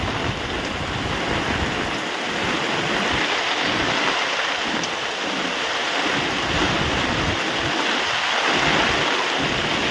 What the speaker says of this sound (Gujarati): જોરદાર વરસાદ ચાલુ થઈ ગયો